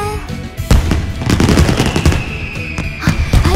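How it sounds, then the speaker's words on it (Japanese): Rapid fireworks crackle and boom in a dense, continuous barrage at Atsugi's summer festival of about 10,000 shells, loud and close, with bursts overlapping one another. "花火すごいいっぱい"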